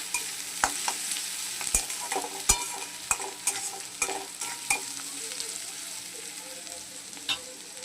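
Food frying in a pan before greens are added for a rohu fish and winter vegetable dish, a soft continuous sizzle punctuated by sharp clicks and scrapes of a spatula stirring.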